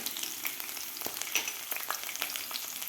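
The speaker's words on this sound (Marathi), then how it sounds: "आता एक मिनिटभर व्यवस्थित आपल्याला ते फ्राय करून घ्यायचं आहे" Finely chopped ginger, garlic and green chillies fry in a pan with a bright, crackling sizzle broken by sharp pops and spatters, heard up close with nothing else over it.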